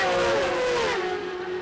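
Race leader's superbike on the final lap of an Elf SuperBike Series Brasil round sweeps past on the circuit, a loud engine whine that sweeps downward in pitch as it goes by, with no talk over it.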